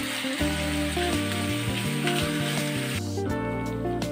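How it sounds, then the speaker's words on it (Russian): Pork liver in sour cream and tomato paste sauce sizzles and bubbles steadily in a hot pan, loud and close, with scraping and clinking of a utensil as it is stirred. "печень я перемешал вместе с соусом"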